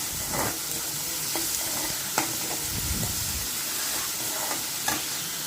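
Onions frying with salt in a pan for a brinjal and tomato curry, a continuous soft sizzle broken by occasional scraping and stirring knocks.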